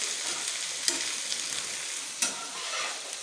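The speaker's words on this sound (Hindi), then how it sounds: "तो जो भिंडी हमारी यहाँ पे फ्राई हो रही है, अभी हम इसको मज़ीद पकाएंगे ताकि इसका जो है कलर लाइट गोल्डन हो जाए।" Okra fries in a pan as part of a spiced okra and potato dish, a steady close sizzle with a couple of sharp clinks from stirring.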